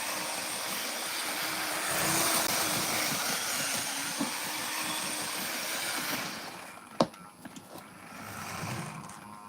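A model train runs along its layout track with a steady, close, hissing rumble. Toward the end the sound drops away and is broken by a sharp click and a few lighter taps.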